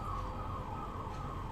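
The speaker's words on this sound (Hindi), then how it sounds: "I live on a road actually, तो आपको बहुत ठक ठक और एम्बुलेंस की आवाज़ें आएंगी" An ambulance siren on the road outside wails faintly in a steady tone, distant and muffled beneath broad background noise.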